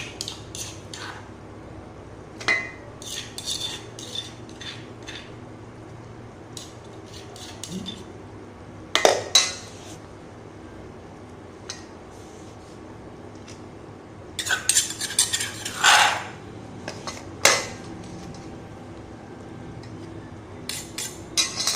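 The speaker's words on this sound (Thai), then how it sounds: "นี้ก็ต้องได้เวลาคลุกเคล้าครับ" Minced pork filling for stuffed bitter gourd is mixed in a bowl in a home kitchen. A utensil scrapes and clinks against the bowl close by in intermittent bursts, with quiet pauses between them.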